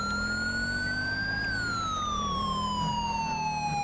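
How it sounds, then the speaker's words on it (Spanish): A police car siren wails loud and continuous in GTA V with the LSPDFR mod, a steady electronic tone sweeping up and then slowly down over a low engine rumble, with no talk. "aquí vamos a ir con sirenas"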